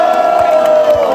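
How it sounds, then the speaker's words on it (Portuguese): Crowd at a Brazilian rap battle semifinal, Batalha da Linea, roars loudly for a rapper, one strong sustained shout-like tone riding on top of the noise throughout. "faz muito barulho, pra quem gostou das mais do Leclerc"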